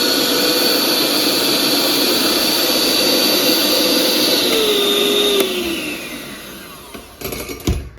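Milux hand mixer whirring loudly and steadily on turbo speed, a high motor whine holding then dropping in pitch as it slows and stops, followed by a few handling clatters.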